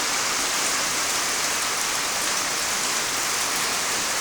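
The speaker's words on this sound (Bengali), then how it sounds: "তো বৃষ্টি কিন্তু খুবই ভালোই হচ্ছে।" Heavy rain pouring down steadily, a dense, close, unbroken hiss of drops with no pauses and no voices.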